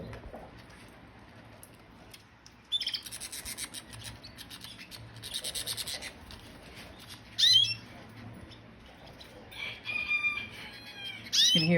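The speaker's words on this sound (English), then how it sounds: "You can hear my rooster in the background" A rooster crows several times in the background, with canaries eating lettuce nearby and rustling, rubbing sounds between the calls.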